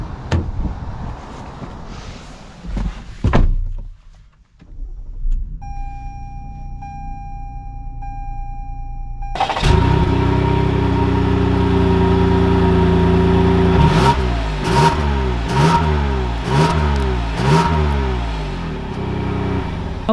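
A 2021 Toyota Highlander XSE has its engine started, a steady tone and chime in the cabin, then the engine catches and idles loudly, followed by rising and falling revs as it pulls away and shifts through gears.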